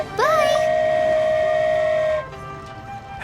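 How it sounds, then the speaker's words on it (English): A steam train whistle in a video game gives one loud, long, sustained blast that rises in pitch at the start, holds steady for about two seconds, then cuts off, leaving a quieter rolling rail rumble. "Wow, a train ride over the sea?"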